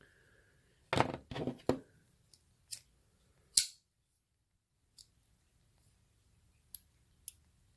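A Boker folding knife snaps shut in a quiet room, a quick cluster of sharp metallic lock clicks followed by a few isolated, crisp ticks spaced out afterward, close and clear with no talking.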